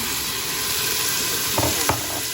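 Chicken breast going into onion that is frying in a pan and then being stirred, with a steady sizzle throughout and a couple of short scraping stirs toward the end.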